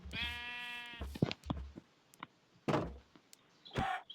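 In a Minecraft-style video game, a sheep bleats loudly and up close in a wavering call, followed by thuds, brief game sounds and a second fainter bleat near the end.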